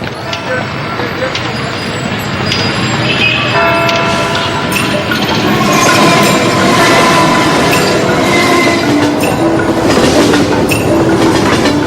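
Train travelling on rails, loud and close with continuous rumbling, rhythmic clickety-clack and squealing wheels, sustained throughout under a faint voice.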